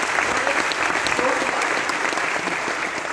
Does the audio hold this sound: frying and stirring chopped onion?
no